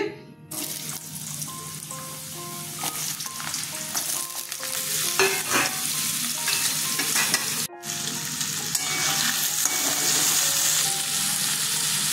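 Potato pieces for a coconut-free chana dal go into hot oil in a pan and fry with a loud, steady sizzle. The sizzle stays dense throughout, with a few stirring scrapes and a brief dip partway through.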